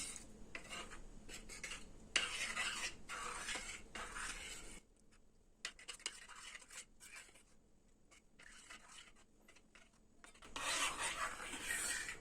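A spoon stirs chocolate flakes into warmed cream in a pot until they melt, giving soft scraping and rasping strokes in close, irregular bursts that drop to near quiet midway and then return.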